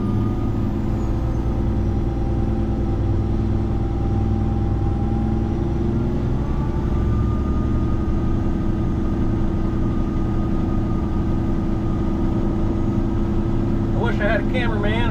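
A truck backs up slowly: a steady, loud low engine rumble drones throughout with little change, a faint beeping surfacing near the end, and someone speaks in the cab over it.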